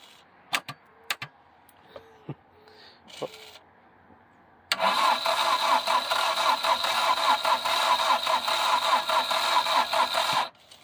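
A few faint clicks and taps, then an Audi A3 manual's engine cranks and catches, running steadily and loudly up close for several seconds before cutting off.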